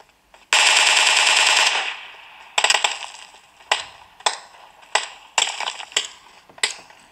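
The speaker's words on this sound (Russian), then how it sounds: "Я не пойму, кто стреляет по мне." Automatic weapon fire in the mobile shooter PUBG Mobile, played on a Sony Xperia XZ1 Compact: a long sustained burst, then a string of separate sharp shots and short bursts, loud and close, with no talk.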